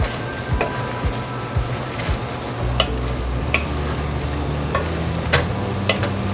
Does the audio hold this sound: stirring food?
yes